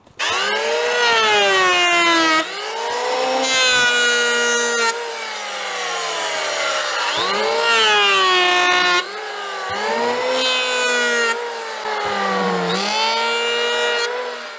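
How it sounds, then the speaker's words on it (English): A hand planer works along a wooden block in a cabin build, a series of loud, close, rasping strokes, each a couple of seconds long and separated by brief pauses. "I can keep flipping it around when I'm planing, and that way if my planer's cutting a little heavy on one side"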